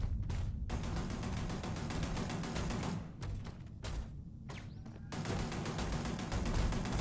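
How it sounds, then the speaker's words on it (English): Rapid bursts of automatic turret gunfire in the video game Waiting for Sweetpea rattle almost continuously, dropping out briefly a few times before resuming loud and dense. "Why am I hearing gunfire?"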